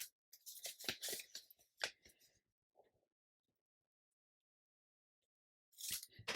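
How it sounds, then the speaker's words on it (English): Scissors snip through old book pages, trimming the tops off to make junk journal tags. A quick run of close, crisp cuts comes first, a pause follows, and another burst of cutting ends the clip. "then cut the tops off to make a tag"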